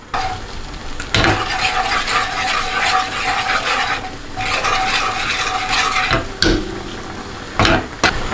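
Pasta being stirred in melted butter in a hot pan, a steady scraping and sizzling texture with spoon clatters against the metal and a couple of sharp knocks near the end, no talking.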